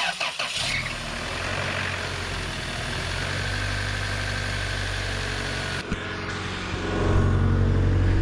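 Engine of a 1997 Toyota Tacoma with the 2RZ-FE four-cylinder, cranking and catching at the start and then idling steadily, with a brief clunk partway and a louder rise in idle near the end.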